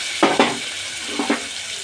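Ingredients for an egg curry fry in a pan, a steady sizzle broken by two pairs of quick stirring scrapes, close and fairly loud.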